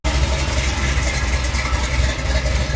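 A Kawasaki 350SS motorcycle engine idling on choke: a steady, loud, close throb with a rough low rumble that holds evenly throughout, with no talking.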